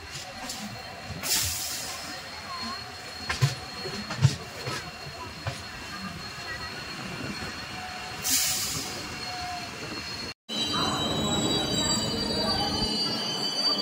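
The Howrah–Puri Superfast Express (12837) rolls into Puri station, a continuous rumble of train wheels on rails with brief squeals and hisses, then a louder, denser passage near the end.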